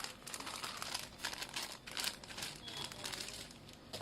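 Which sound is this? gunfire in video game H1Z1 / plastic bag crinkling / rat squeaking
plastic bag crinkling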